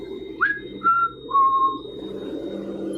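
A person whistling three short, clear notes, the first rising and the next two held, close and distinct over a quiet murmuring background.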